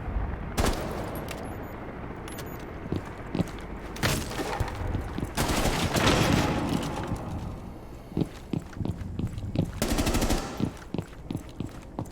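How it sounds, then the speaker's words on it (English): Bursts of automatic gunfire in Rainbow Six Siege, fired at and through a wall: loud rapid volleys around the start, middle and end, with scattered single shots between. "He just flicked to the wall and then continued to try to shoot him through the wall."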